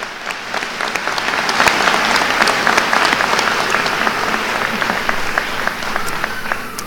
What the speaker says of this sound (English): Let us applaud these graduates.